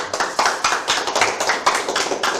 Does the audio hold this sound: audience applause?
yes